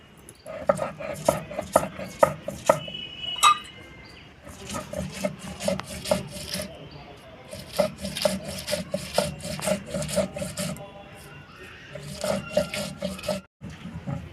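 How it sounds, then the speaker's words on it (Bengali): Raw banana peel ground with black cumin, green chili and garlic on a stone grinding slab, giving a steady rhythmic scraping and rubbing, close and fairly quiet, with short gaps between strokes. "অল্প কালো জিরে দিয়ে একবারে বেটে নেব"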